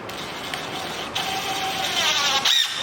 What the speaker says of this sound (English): let's go ahead and get these guys screwed together